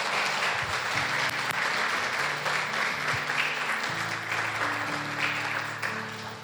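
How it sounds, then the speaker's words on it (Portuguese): A church congregation applauding during a worship service: steady, full clapping from many people that continues throughout, with voices and tonal sounds faintly underneath. "Aplauda ao Senhor por isso."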